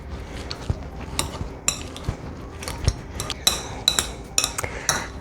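Seasoned ingredients, salted and peppered, are mashed in a bowl for corned beef hash, with a quick run of clinks and scrapes from metal utensil against dish, near and alone.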